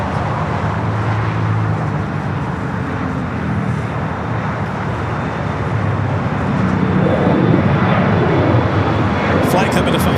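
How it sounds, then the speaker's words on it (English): Far airplane roar from an A320neo arriving at LAX from Phoenix swells toward the end under constant traffic noise, with people talking over it. "Flight coming in from Phoenix"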